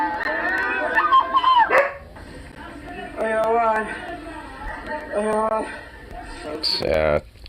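A dog barks in short, loud bursts of repeated yaps and yips close by, several quick volleys spread across the moment, with some chatter mixed underneath.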